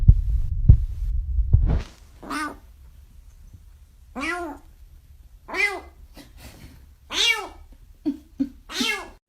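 A cat meows several times in separate drawn-out calls, spaced a couple of seconds apart, after a burst of low rumbling handling noise at the start.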